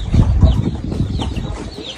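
Chickens clucking in a farmyard, several soft irregular clucks and low rustling close by, fairly loud and without talk.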